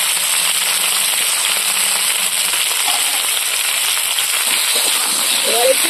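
Taro pieces drop into hot spiced curry masala with green chilli in a pan and set off a loud, dense, steady crackling sizzle that runs without a break from start to finish.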